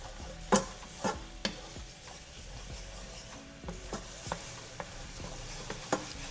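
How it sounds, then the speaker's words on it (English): Honey garlic sauce for shrimp begins to simmer in a pan, giving a soft sizzle and bubbling. Scattered sharp taps and scrapes from a utensil stir through it. "You see it's starting to simmer."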